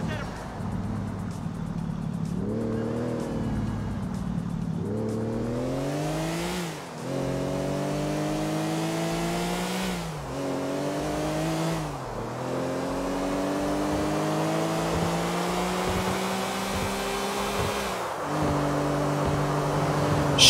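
Car engine in Grand Theft Auto IV revving and shifting gears repeatedly over twenty seconds, rising pitch sweeps with each acceleration, loud and steady throughout, with traffic noise and a voice talking over the driving.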